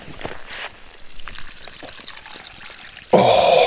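Water poured from a container over dehydrated spaghetti at a wilderness campsite, starting abruptly after quiet handling noises and continuing as a loud, steady, close-up splashing pour.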